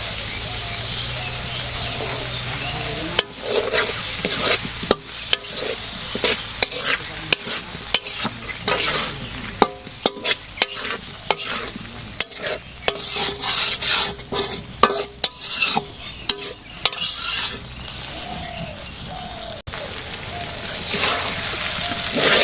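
Meat is stir-fried with turmeric and chili powder in a village kitchen, a steady sizzle broken by frequent sharp scrapes and knocks of a spatula against the pot.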